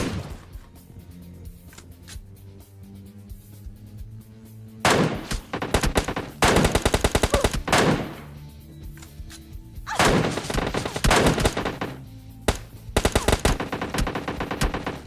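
MK14 rifle fire in the mobile battle royale game PUBG Mobile Lite: rapid bursts of sharp, loud shots in several volleys with short pauses between them, over a low background hum, with no talk.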